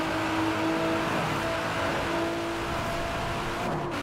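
A 1,000-horsepower Nissan GT-R in Forza Horizon 4 holds a loud, continuous engine drone with a high whine on top for about four seconds, then cuts off abruptly, with no talking.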